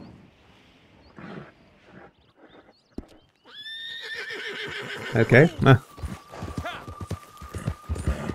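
A horse in the video game Red Dead Online gives a loud neigh and whinny, along with clip-clop hoof sounds. Quiet talk comes first, then a short word is spoken as the animal sounds rise and fall.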